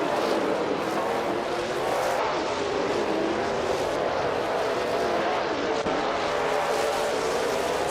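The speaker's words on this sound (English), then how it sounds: "Saltaker 2006 is hitting the throttle, gaining speed, out of turn 2." Race cars in a racing video game accelerate out of turn 2, a steady, moderately loud engine drone with whining revs that swells and holds throughout, with a faint whoosh of a car passing near the end.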